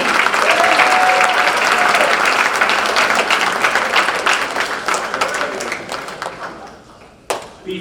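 Sustained, loud applause from an audience at a hall of fame induction ceremony honoring athletes, a dense wash of clapping that gradually thins and fades, ending with a few last claps.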